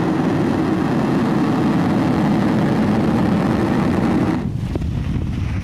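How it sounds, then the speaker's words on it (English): Falcon 9 rocket lifting off carrying the Twilight rideshare payloads, a loud, continuous broadband roar with heavy low rumble that holds steady, then thins and drops slightly near the end. "Ignition. And liftoff of Falcon 9."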